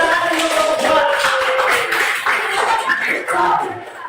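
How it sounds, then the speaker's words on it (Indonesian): A classroom of students applauds a student group after their presentation, a sustained patter of many hands clapping together at moderate loudness for several seconds. "Tepuk tangan untuk kelompok 2."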